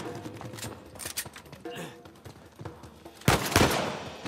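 Rapid gunfire in the action video game Uncharted 4, bursts of sharp shots over the first half and a louder close volley near the end, no speech.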